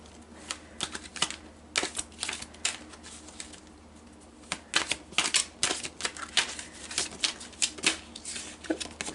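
Tarot cards are shuffled and drawn close up: crisp snapping flicks and riffles arrive in irregular bursts, separated by brief pauses.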